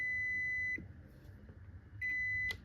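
A multimeter gives a continuity test beep on a fuse in a car battery charger under repair: a steady tone that stops, then a second beep, with faint handling noise between.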